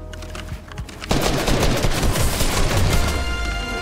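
A shotgun fired in a squad-based shooter video game, with loud, dense gunfire erupting after about a second and continuing as a rapid, heavy barrage close up, with no talking.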